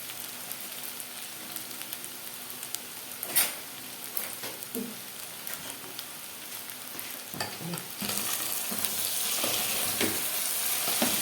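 Peas frying with meat and onion in a pan give a steady sizzle and crackle, with a few louder stirring clanks, growing fuller toward the end; no talking.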